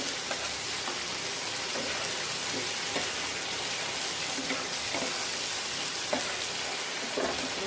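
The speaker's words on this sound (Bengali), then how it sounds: "এই তেলটাতে পেঁয়াজ দিয়ে দিচ্ছি" Onion frying in hot oil in a pot, a steady dense sizzle and crackle that stays even throughout, close and continuous with occasional faint stirring knocks.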